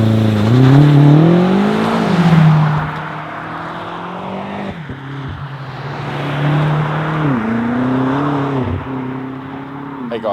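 A 2023 BMW M8 Competition Coupe launches hard under launch control, its engine roaring loud and close with a rising note through the gears and brief dips at each shift, with no talk over it.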